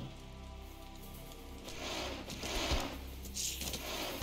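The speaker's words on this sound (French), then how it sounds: "Pluie divine, ça c'est pour booster son économie." Divine rain spell in the strategy game Age of Mythology Retold: a soft, steady patter of rain on surfaces swelling slightly louder partway through, with scattered droplet taps and no speech.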